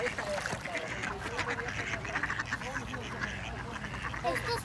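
Ducks quack near water, a continuous busy mix of overlapping quacks and calls close by, with people talking over them.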